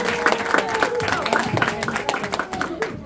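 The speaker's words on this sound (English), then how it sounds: "Please give them a round of applause" At a youth basketball game a gym crowd applauds the teams, brisk clapping mixed with cheering voices and chatter, fairly loud and continuous throughout.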